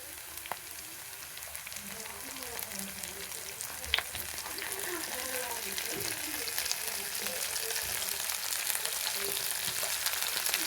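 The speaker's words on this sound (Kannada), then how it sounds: "ಆ ಮಸಾಲಾನ ಇದ್ರ ಒಳಗಡೆ ಒಂದೊಂದೇ ಹಾಕ್ತಾ ಇದ್ದೀನಿ" Masala-stuffed brinjals frying in onion masala give a steady, moderate sizzle and crackle throughout, with light stirring and a few faint clicks of utensils, no speech.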